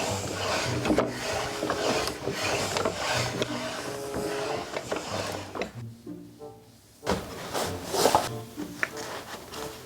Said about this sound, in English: And the creakiness, that's just the nature of wooden screws